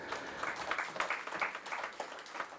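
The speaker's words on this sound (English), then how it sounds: "please deserve a round of applause" A live audience at a public sector enterprises CSR event gives a round of applause, steady dense clapping filling the hall throughout.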